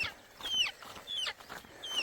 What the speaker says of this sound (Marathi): तिथं कोंबडा वाट बघतोय.